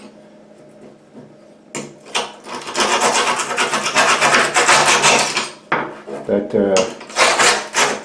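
Hand-held carbide scraping tool rasping tile grout out of joints in repeated loud, gritty strokes after a quieter opening, with brief pauses between passes.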